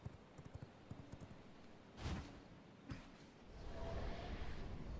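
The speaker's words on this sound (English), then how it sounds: "I'm gonna jump on my horse here." Horse hooves clip-clopping in the vampire survival game V Rising, a quiet run of rhythmic hoofbeats followed by a brief whoosh and a low rising rumble as the horse gets going.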